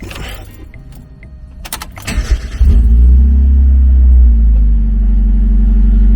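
A supercharged Mazda Miata cranks with a brief starter whir, then catches into a loud, steady idle rumble that holds close up after a few quiet clicks and rustles.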